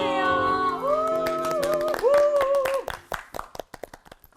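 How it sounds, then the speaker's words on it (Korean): Studio audience at a Korean Bible-study broadcast breaks into applause, a dense crackle of many hands that thins into scattered claps, with cheering voices and sung-out tones layered over it. "왜 환호를 하고 그래요?"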